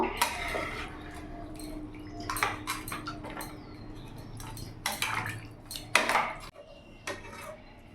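A spoon works through rice and water in a metal pot for katla fish-head muri ghonto: steady scraping with scattered clinks and knocks against the pot, close and moderately loud, without talk.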